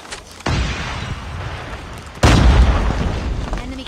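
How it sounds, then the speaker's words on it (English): A grenade explodes in a first-person shooter match, two heavy booms with abrupt onsets, the second louder and deeper, each followed by a rumbling tail. "Grenade out!"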